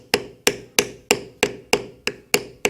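A mallet strikes a leather beveling tool while figure beveling a carved and embossed horse head in leather, making nine sharp, evenly spaced wooden knocks in a steady rhythm, each ringing briefly and close up, with no voices.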